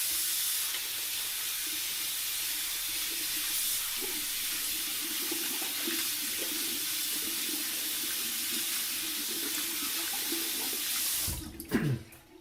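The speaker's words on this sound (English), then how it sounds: "I'm going to wash my hands off." Water pours steadily from a tap during handwashing, a constant close splashing rush that stops abruptly near the end with a few clunks.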